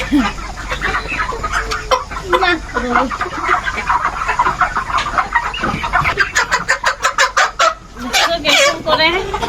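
A heavy three-kilo chicken squawks and clucks loudly while being caught and lifted, wings flapping in rapid bursts near the end, as a person talks breathlessly over the commotion.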